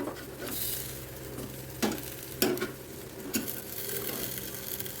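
Chicken sizzles steadily on a grill pan while it is turned over, with three or four sharp clinks of a utensil against the pan. Faint and close, with no voices.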